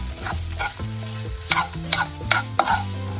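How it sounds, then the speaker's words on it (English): A spoon stirring sofrito and sazon in a pot for Puerto Rican alcapurrias gives several quick scraping strokes, close and fairly loud, over a low sizzle and a hum in the background. "Just stir that up really quick"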